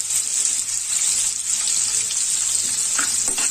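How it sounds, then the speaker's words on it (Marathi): Chopped onion and green chili sautéing in hot oil after popped mustard seeds, a steady loud sizzle throughout with a few soft stirring scrapes near the end. "तेलामध्ये परतवून घ्यायचं।"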